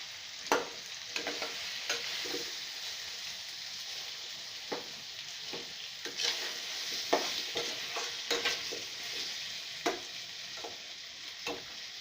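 Pumpkin fries in a pan under a steady close sizzle, while a utensil scrapes and stirs at intervals, leaving sharp clicks across the hiss.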